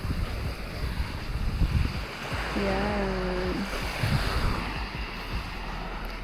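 Steady rushing surf and wind noise wash over the scene, with a brief spoken word near the start.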